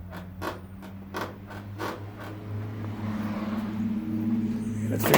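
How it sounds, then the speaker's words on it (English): A Model T Ford being driven with a steering problem gives off a series of sharp, rhythmic rattles and knocks over a low engine rumble, heard close by from inside the car as the road noise slowly builds. "There is something rattling. We got an issue with the steering."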